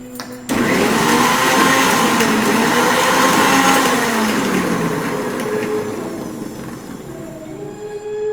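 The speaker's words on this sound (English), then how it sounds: "and blend it together." A blender whirs through butter vadai batter with cilantro, starting abruptly and holding a loud, steady motor roar whose pitch slowly falls as the coarse mix churns.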